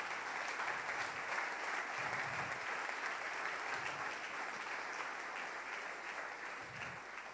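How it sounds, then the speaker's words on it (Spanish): Church congregation applauding during a Saturday service, a sustained, even wash of many hands clapping heard from a distance at moderate loudness, continuing for several seconds. "Si lo comprendes, dale un aplauso al Rey"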